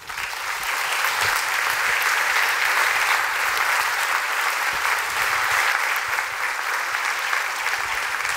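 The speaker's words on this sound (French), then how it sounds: "Et je vous demande de les applaudir, s'il vous plaît" A crowd at a New Year's greetings ceremony applauds steadily and loudly, a dense, even wash of clapping that holds for the whole stretch without a break.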